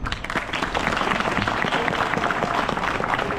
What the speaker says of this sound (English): Give a huge round of applause to him